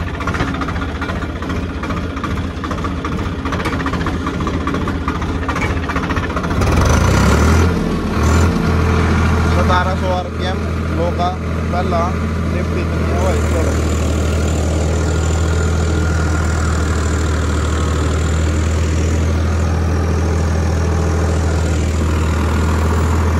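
A Swaraj 855 tractor pulling a 9-foot rotavator while sowing wheat runs with a steady heavy diesel drone, briefly surging and labouring mid-way before settling back into an even, close rumble with no talk.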